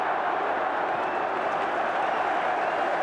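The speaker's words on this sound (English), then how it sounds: "Kevin Moran gets a round of applause" Football crowd at an English league match between Manchester United and Coventry City, a broad distant wash of stadium applause and crowd noise that holds evenly throughout without any clear individual claps.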